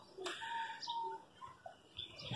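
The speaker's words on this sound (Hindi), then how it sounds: "कुछ कबूतर खुले हुए भी हैं, कुछ उड़ रहे हैं ऊपर।" Pigeons coo softly in the background, with a few short bird calls and a faint flutter over a quiet outdoor hum.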